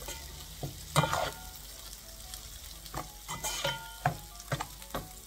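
Potatoes coated in spices being stirred and fried in a pan for poha pulao, with a spatula scraping in several irregular bursts over a low, steady sizzle.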